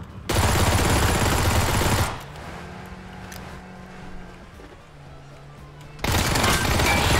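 Bursts of video game gunfire, loud and dense, at the start and again at the end, with a quieter stretch of engine-like rumble between them.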